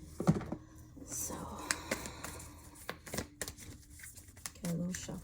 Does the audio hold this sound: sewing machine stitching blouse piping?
no